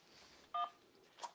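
A single telephone keypad DTMF tone sounds once during a phone call's automated menu, short and clear, followed later by a fainter blip.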